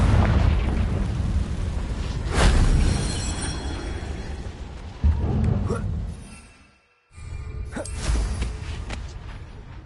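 Confringo fire-blast spell from a Harry Potter wizarding video game, bursting in several loud booming explosions with crackling debris, separated by rumbling gaps and one brief near-silence before another blast.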